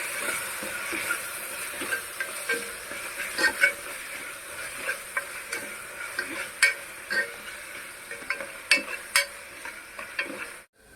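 A spoon stirs spices, including red chili and coriander powder, into a tomato curry in a pan, giving a soft steady sizzle broken by repeated scraping and clinking strokes against the metal, close up with no voices.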